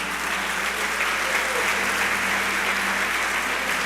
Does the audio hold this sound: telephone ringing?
no